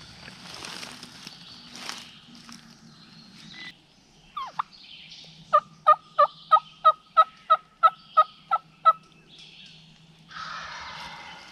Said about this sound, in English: Take note of how these gobblers respond to these different calls.